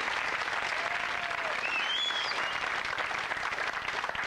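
TV studio audience applauding a contestant on a 1989 UK game show, a steady dense wash of clapping throughout, fairly loud and even with no voices over it.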